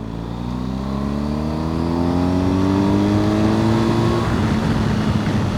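A 2023 BMW R1250 GSA motorcycle pulls hard in third gear, its loud, close engine note climbing steadily in pitch with rising harmonics through a smooth roll-on, then easing at the end; no talking.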